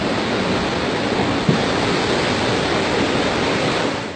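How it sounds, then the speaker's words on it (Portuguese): Ocean waves near a railway bridge, heard as a steady, loud, broadband wash of surf that fills the whole clip without pause, with no voices. "E repare só nessas ondas."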